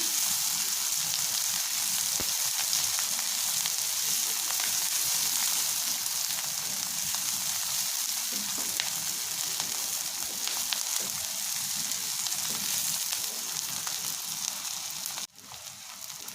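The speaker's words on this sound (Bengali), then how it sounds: "নরম হওয়া পর্যন্ত একটু নাড়াচাড়া করে ভেজে দিচ্ছি। আমি রান্নাটা সরিষার তেল দিয়ে করছি" Onions fry in mustard oil in a pan with a steady, dense sizzle and crackle, occasionally stirred, continuous and close throughout before a brief drop near the end.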